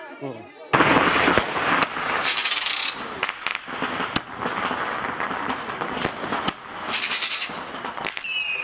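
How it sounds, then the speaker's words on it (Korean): Firecrackers go off across a Chinese village at midnight, dense rapid crackling bursts with sharp louder bangs, near and loud, continuing throughout with voices faintly in the background. "금은날 밤 12시 온 마을 사람들이 일제히 폭죽을 터뜨린다."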